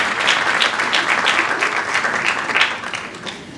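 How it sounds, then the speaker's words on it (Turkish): A concert audience gives a brief, steady round of applause for a group of musicians, dense clapping throughout with no talk over it. "kuvvetli alkışlarınızı rica ediyorum"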